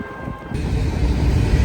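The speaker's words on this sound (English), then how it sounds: "Catching the Union Pacific on the way, or en route to somewhere." A Union Pacific freight train rumbles past outdoors, a steady, loud low roar that swells after a quieter start and holds to the end.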